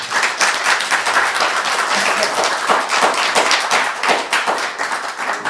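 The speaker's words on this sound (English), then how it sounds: "May I request that they be given another round of applause." A live audience at a gamaka music program breaks into lively applause, close and fairly loud, with distinct individual claps and taps standing out within the crowd's steady clapping.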